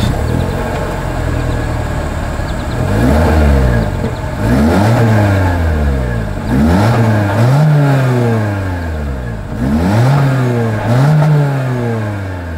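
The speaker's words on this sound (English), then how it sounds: "here is that exhaust clip" A 2025 Toyota Corolla Hatchback engine revs up repeatedly, four or five rising-and-falling exhaust bursts in a steady rhythm, loud and close with an idle rumble between.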